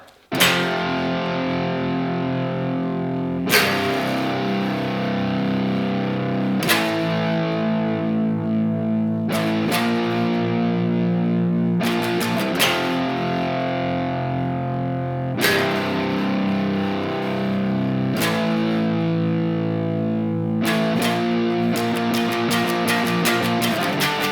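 A distorted electric guitar riff from a song, played slowly, with sustained chords changing every few seconds in a steady, heavy pattern, loud and alone.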